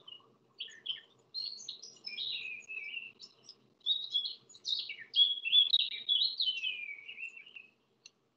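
A male blackcap sings alone, clear and fairly close, with a run of rich warbling phrases broken by short pauses.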